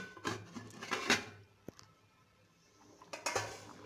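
Fish tipped into a pot of Chettinad-style jilebi fish curry, then a lid set down, heard as a few close metallic clatters and knocks with a quiet gap between them.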